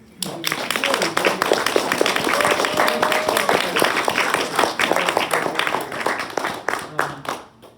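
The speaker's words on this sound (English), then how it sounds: "how about a round of applause for everybody?" An audience applauds at a reading and contest event, dense steady clapping that swells and then thins out toward the end.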